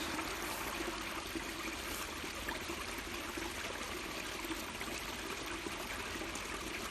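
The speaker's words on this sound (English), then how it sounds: "So we are letting out water to the meniscus." Water trickling steadily out of a measuring container beside a culvert, a constant close splashy stream with no pauses.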